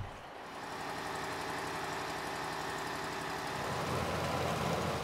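Engine of a Mekong River passenger boat in Laos, a steady mid-pitched droning rumble with a rapid throbbing pulse, close and continuous with no voices.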